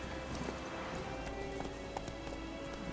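Horse hooves clip-clop in the video game The Witcher 3: Wild Hunt, a steady run of light hoofbeats over a constant ambient background, with no talking.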